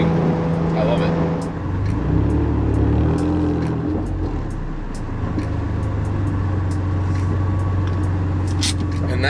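Acura NSX driven on a morning road run, its raw exhaust giving a steady, loud engine drone throughout with rises and dips as revs change, and faint speech-like sounds now and then.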